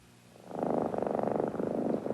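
A contented, healthy cat purrs up close, a steady rumbling purr that swells in after a brief quiet moment and continues with a gentle rhythmic pulse, with no other sounds.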